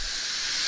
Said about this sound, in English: Gotta let all that steam release.